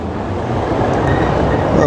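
A metro train rumbles steadily and loudly for a couple of seconds in a busy Bengali neighbourhood of Portugal near an underground station, a continuous low roar without pauses.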